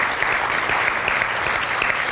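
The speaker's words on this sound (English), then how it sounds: "So if we can get a round of applause to Mr. Galt, our Chief Academic Advisor," An audience at a school district event claps in a dense, steady round of applause, loud and sustained from start to finish, with no talking over it.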